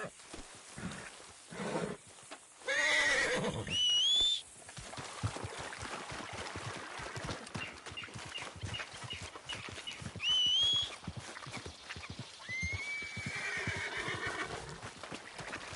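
A horse in the video game Red Dead Redemption 2 whinnies in several loud, shrill bursts with rising-and-falling neighs, spread over about fifteen seconds, set against hoof clops and soft ambient background noise.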